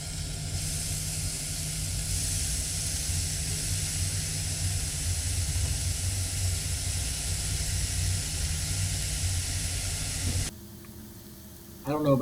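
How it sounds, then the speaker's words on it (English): Food sizzles on a propane stove, a steady, fairly loud hiss that runs unbroken for about ten seconds before cutting off abruptly, leaving a quieter background. "the sound of sizzling food, whether it be onions, meat, anything, just makes me hungry"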